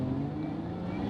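A Lotus Emira manual sports car on the street, its engine giving a loud, steady drone that pulls evenly throughout.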